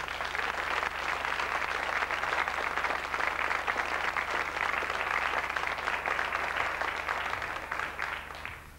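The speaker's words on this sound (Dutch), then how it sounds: "Wilt u even een fantastisch applaus geven voor mijn twee gasten die vandaag gaan koken?" A studio audience at a TV cooking show applauds two guests with sustained, dense clapping that stays fairly even for several seconds before tapering off.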